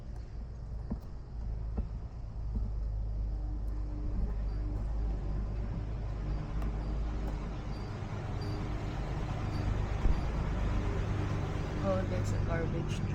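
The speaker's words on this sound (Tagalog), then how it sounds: "Oh, that's a garbage truck." A garbage truck rumbles past outside with a low, steady engine drone that swells gradually, while people talk nearby.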